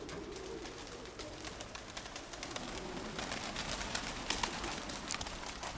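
Racing pigeons at their loft coo in soft, repeated calls, a steady murmur of birds close by with occasional wing flutters.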